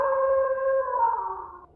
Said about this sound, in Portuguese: Pavagada solta seu uivo aterrorizante.